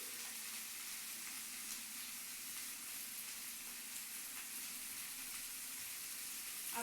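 Spices sauté in a pan for a fish head curry, giving a steady, soft sizzle that stays even throughout with no talking.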